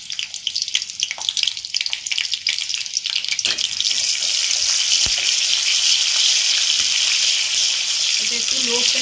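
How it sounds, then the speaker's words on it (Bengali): Garlic frying gently in hot oil in a wok over a low flame, a steady close sizzle with faint trickling and clatter, growing denser and more even partway through. "এটা একটু লো ফ্লেমে আস্তে আস্তে রসুনটাকে ভাজছি।"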